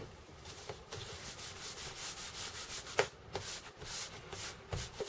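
Neatsfoot oil is worked into a leather dog collar by hand: faint, close rubbing strokes repeat in an uneven rhythm with occasional light taps.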